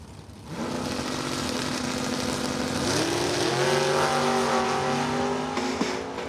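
A Chevelle and a lowered Camaro launch together at a drag strip, engines roaring up in loud, rising, overlapping revs that climb through the gears, heard from trackside.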